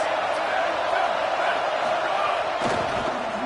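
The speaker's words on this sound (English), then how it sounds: "This crowd trying to make life miserable for this offense." Stadium crowd at a college football game, a dense, steady roar of many voices filling the clip, loud and continuous with a brief surge near the end.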